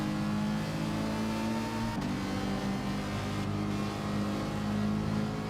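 Ferrari race car engine in Gran Turismo 7 heard from the cockpit, a loud steady drone that drops pitch at a gear change around two seconds in, then holds and climbs again, with no talk over it.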